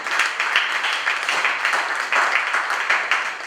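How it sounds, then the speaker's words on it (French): An audience applauds loudly at a francophone event, producing a dense, rippling clatter of many hands that swells in irregular waves and holds steady throughout. "applaudissez très fort pour les deux"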